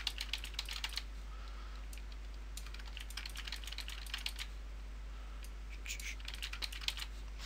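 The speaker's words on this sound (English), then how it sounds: "So Shift D and then just right click, Shift D, right click." Keyboard shortcuts and mouse clicks are pressed while working in Blender, producing quick, close clacks in small clusters with short pauses between them. A low hum runs underneath, and no one speaks.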